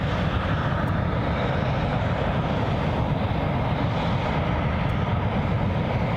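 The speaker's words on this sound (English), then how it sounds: "a good close-up here of a Cessna Citation bound for Madrid" A Cessna Citation business jet near the runway at Glasgow International Airport, outbound for Madrid, gives a steady, loud, broadband engine roar held close and constant throughout, with no talking.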